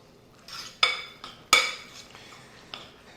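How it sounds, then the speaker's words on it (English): Utensil stirring spaghetti carbonara in a metal pot, with a few sharp scraping clinks standing out from softer mixing noises, close and moderately loud, no talking. "I'm going to stir really well"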